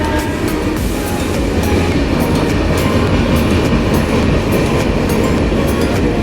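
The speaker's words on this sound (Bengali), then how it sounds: "কি ভালো লাগে না রাতে স্টেশনে এরকম একটা ট্রেন ছুঁয়ে যাচ্ছে স্টেশনগুলো দেখতে।" The Howrah Jan Shatabdi express running at night, with a loud, close rumble of wheels on track and a rapid, regular clickety-clack of rail joints throughout.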